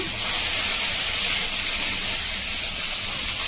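Chutney ingredients roast in a hot pan for a breakfast red chutney, giving a steady, loud, unbroken sizzling hiss that runs throughout with no talking.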